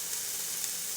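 Korean BBQ meat sears on a grill at home with a steady, bright, close-up sizzle and no talking.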